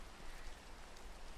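Rain in the Minecraft video game makes a steady, soft, hissing wash with no voices over it.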